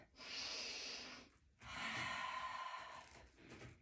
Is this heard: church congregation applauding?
no